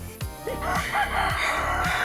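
Roosters crow loudly and close, several calls overlapping in a raucous chorus with clucking underneath.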